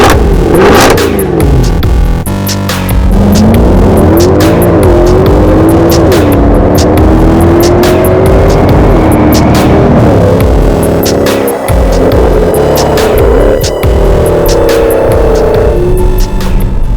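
A Mercedes C63 AMG V8 fires up loudly and revs repeatedly, engine pitch climbing and falling in sweeping surges before settling into a throbbing, close-miked rumble.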